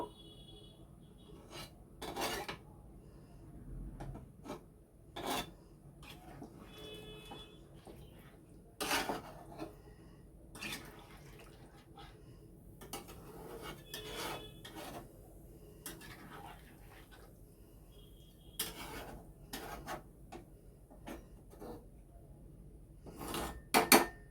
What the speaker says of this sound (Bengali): ভালো করে খুন্তিতে যে মশলাটা আছে ওটা ভালো করে এর সাথে মিশিয়ে দেব।